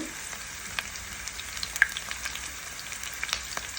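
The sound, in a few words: onions and green chilies frying with spices in pan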